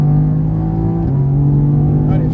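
Loud close-up engine drone of a car lapping a race track at Mireval, holding a strong steady tone that dips briefly as the gear or throttle shifts, then rises again.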